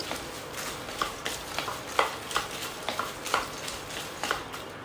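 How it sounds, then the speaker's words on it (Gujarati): Puffed rice and fox nuts roast in ghee in a pan, stirred with steady, rhythmic scraping strokes over a soft, constant sizzle. "ઘીમાં જ આપણે એને શેકી રહ્યા છીએ"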